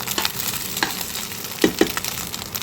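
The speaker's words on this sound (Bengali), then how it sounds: "একটা ডিম দিয়ে কাঁচামরিচ দুইটা দিয়েছি" Egg with two green chillies frying in a little oil in a pan, a steady sizzle with a couple of sharp stirring scrapes and pops near the middle, close and moderately loud with no talk.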